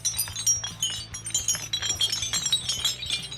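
Glass chandelier crystals clink and jingle continuously as the fixture is carried outdoors, a bright, busy shimmer of small glassy taps, close and fairly loud, with no voices.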